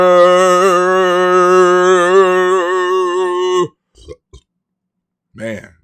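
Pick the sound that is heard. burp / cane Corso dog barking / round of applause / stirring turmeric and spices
burp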